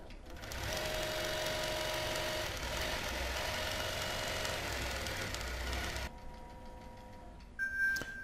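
A sewing machine stitches a quilt with bobbin thread in a steady, continuous whir for about six seconds, then stops, leaving a quieter hum and a few electronic beeps near the end.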